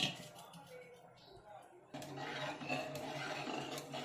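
Curd vada being mixed with buttermilk in a bowl, quiet at first, then a louder stretch of wet stirring with light utensil clinks against the bowl.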